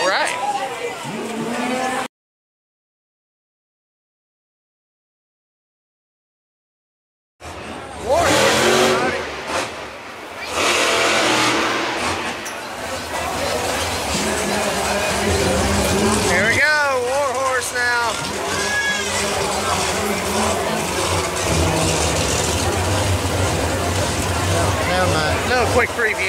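Monster truck engines roar and rev loudly at a live motorsport event, a thick sustained growl with rising surges, heard over crowd noise and talk after a silent gap.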